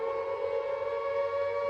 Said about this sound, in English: a raid siren. Not one of the most pleasant noises, wouldn't you agree?